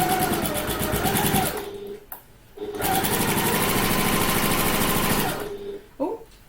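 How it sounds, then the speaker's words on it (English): A sewing machine stitches along the edge of a handbag lining in two long, rapid runs of even clatter, separated by a short pause, then stopping with a small mechanical clunk. "now we're going to sew along this edge here using our regular stitch length again and our regular seam allowance"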